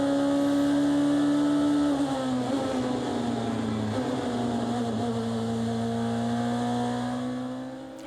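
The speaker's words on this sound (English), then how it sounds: "Holds onto the car through the right-hander. And back on the loud pedal now, Nico Muller" A DTM race car accelerates during qualifying at the Lausitzring, its engine note loud, close and sustained, pitching up steadily as it holds onto the car through a right-hand corner and back on the throttle.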